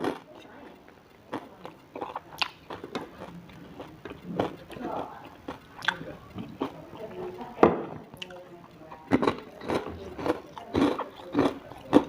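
Crispy pork rinds eaten with sticky rice, heard as close, sharp crunches and wet chewing in irregular bursts, with quieter smacking between bites and a steady low background.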